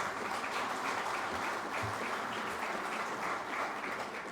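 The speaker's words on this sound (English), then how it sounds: "I think you should applaud your own hands." An audience at an oil and gas energy chamber award dinner applauds, a thick continuous wash of many hands clapping that holds steady throughout.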